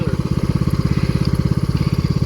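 A riding lawnmower engine runs steadily nearby in a garden, a loud, fast, even chugging throb that holds through the whole stretch.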